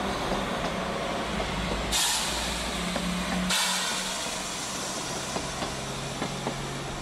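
A train on a German line toward Kreuz in Poland rumbles steadily while its brakes release loud bursts of air hiss, with faint clanks of the railcars and no voices.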